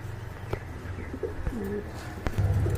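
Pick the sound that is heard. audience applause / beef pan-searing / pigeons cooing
pigeons cooing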